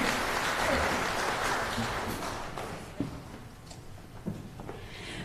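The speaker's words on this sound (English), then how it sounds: "Oh, a big round of applause" A big round of applause from the audience at a NSW Police Band Christmas concert, loud and dense at first and gradually thinning out, with a few louder claps near the end.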